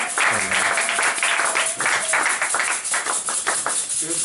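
A church congregation applauds to acclaim the Lord, with a dense, sustained round of clapping close by and voices mixed in underneath.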